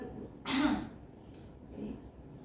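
A female patient gives a single short, forceful cough during an effective coughing exercise, followed by a fainter throaty sound, close and otherwise quiet.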